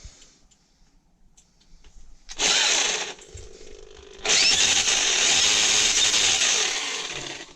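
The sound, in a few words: electric drill running loudly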